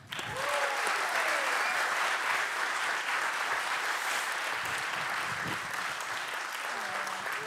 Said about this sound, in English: Can I have a warm, warm applause for Eche Tan?